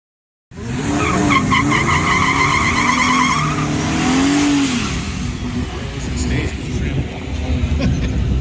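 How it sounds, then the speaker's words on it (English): Drag race cars scream past on a track with roaring engines and squealing tires, a rising whine peaking midway before fading into a lower rumble. "Keith Morrison and Jim Dorsey going on the racetrack right now."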